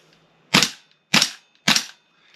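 A Tokyo Marui MWS gas airsoft rifle fires three sharp, loud cracking shots in an even rhythm about half a second apart, each with a short decaying tail, close by.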